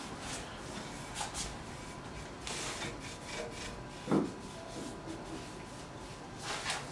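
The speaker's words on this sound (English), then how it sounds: "we just want to apply some shellac on the surface, and then we're gonna use that to fill the pores" A cloth pad rubbing shellac onto a sanded, oiled wooden guitar neck in French polishing: a steady, soft, close-up swishing rub with a few brief knocks, faint and without talk.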